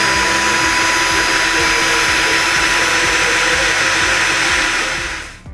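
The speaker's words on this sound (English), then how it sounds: "I had to drill two holes so I actually got oval to fit the cable through" A steady, loud power-tool whine runs continuously for about five seconds as a drill bores through thick wood, then winds down at the end.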